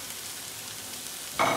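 Beef hitting a hot pan with carrot, pepper and garlic starts sizzling abruptly after a quiet stretch, a bright frying hiss that swells loud near the end.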